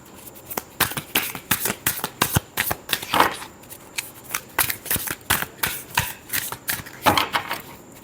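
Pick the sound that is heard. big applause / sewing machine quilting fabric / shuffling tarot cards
shuffling tarot cards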